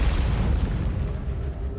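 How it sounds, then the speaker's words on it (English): A deep, rumbling explosion in the space exploration video game Outer Wilds, a loud sustained boom that fills the clip and slowly fades out. "Very properly timed explosion"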